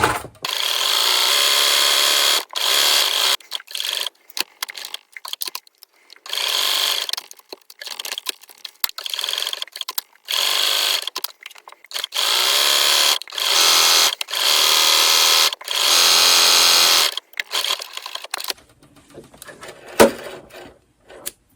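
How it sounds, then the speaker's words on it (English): A domestic sewing machine running a narrow stretch-stitch seam with a quarter-inch foot around a band on a child's top, in repeated loud whirring bursts of a few seconds separated by short pauses, quieter handling noises at the end. "I'm going to use my 1/4 inch foot to sew a narrow seam around the band, and I'm using a stretch stitch."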